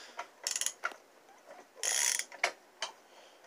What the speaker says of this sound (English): it's just turning the flywheel